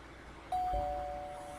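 A doorbell chimes once inside the video game Amnesia: Memories, a soft ding with a lingering tone over quiet background music.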